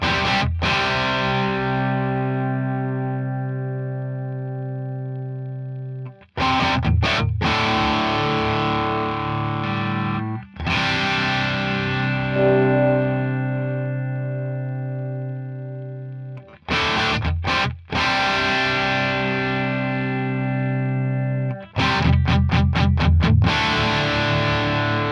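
An electric guitar on its bridge pickup runs through an Axe-Fx III amp model, striking distorted chords that ring out and slowly decay, separated by short muted chugs, loud and close with no voices.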